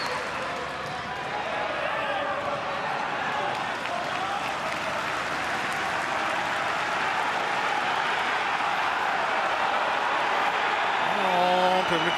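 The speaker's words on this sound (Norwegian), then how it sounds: "Og får applaus." Stadium crowd applauding and cheering at a Brann versus Odd football match, a broad steady roar of clapping from a large distant crowd that swells slightly toward the end.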